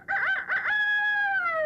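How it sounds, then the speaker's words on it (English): A rooster crows once, alone and close, with a choppy opening and a long, drawn-out final note that slowly falls in pitch. "And the rooster crowed."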